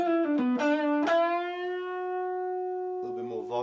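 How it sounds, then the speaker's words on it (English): An electric guitar runs through an overdrive pedal on a homemade pedalboard, with a few distorted notes picked in quick succession and then one long sustained note that rings for about two seconds before another attack. "Overdrive."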